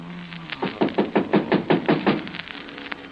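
Knuckles rap on a door in a steady run of about ten close, firm knocks that fade off at the end, with no talking.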